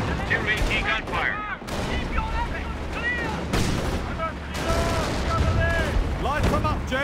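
Gunfire and artillery rumble through a Company of Heroes battle at the Liberation of Caen near Authie, with loud bursts and booms running under excited shouted voices giving orders throughout.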